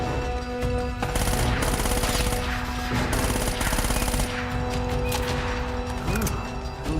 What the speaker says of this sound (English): we might as well just fire at them